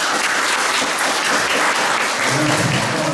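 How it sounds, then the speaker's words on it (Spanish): Loud, dense applause from the audience at a university literature doctoral student colloquium, a continuous roar of many hands clapping close by for about three seconds without a break. "Un fuerte aplauso."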